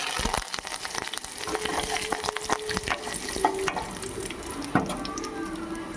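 Curry leaves frying in hot oil for a traditional dal, a steady close crackling sizzle with scattered sharp pops and stirring clicks running throughout, no voices.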